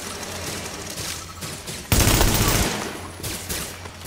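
Enemy gunfire aimed at the player in The Division, loud dense bursts of automatic shots rattling over a low drone, with one especially heavy volley in the middle.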